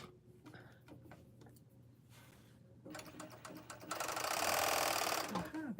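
A sewing machine stitches a t-shirt sleeve, starting with slow ticking mechanical clicks and then running up into a fast, loud, steady whir close by.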